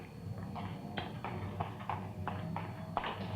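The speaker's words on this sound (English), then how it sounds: "Sounds like a press, doesn't it?" Rhythmic mechanical clacking of a printing press running inside a print shop, steady repeated thumps about every two-thirds of a second over a low rumble, heard from nearby.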